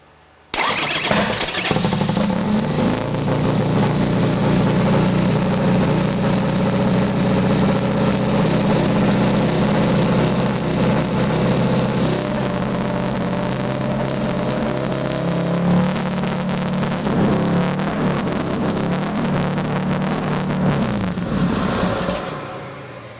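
An engine cranks and fires about a second in, then settles into a loud, steady running roar that holds for roughly twenty seconds before fading slightly at the end, with no talking.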